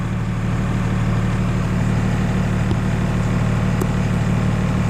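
A Cummins 24-valve diesel truck engine with an HX35 turbo, held on the brake, producing a loud, steady low diesel drone close up, with a couple of brief clicks and no talking.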